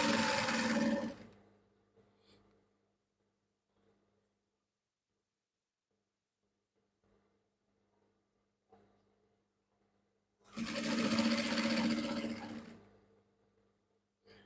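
A sewing machine runs in two short loud bursts stitching shorts, back stitching at the start of a seam, separated by a long quiet stretch.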